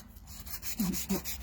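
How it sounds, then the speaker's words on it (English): Brief, quiet rubbing against a surface, two soft swipes following a faint scratchy texture, close by. "I'll just give this a little buff."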